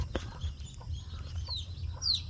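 A mother hen with five chicks clucks softly at close range, with a few low, scattered clucks and thin high chick peeps over a quiet outdoor background.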